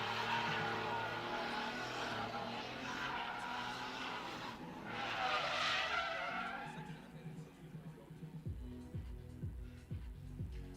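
A drift car at the Drift Pit screeches its tires in long sliding squeals over a revving engine, then the skid fades and the engine drops into choppy, pulsing throttle blips nearby.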